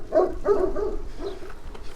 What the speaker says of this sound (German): heute haben wir mal was zu bellen